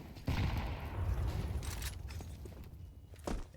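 Sustained automatic gunfire sprayed through smoke in a competitive Counter-Strike match, dense and continuous for most of the span with a further burst near the end, no voices.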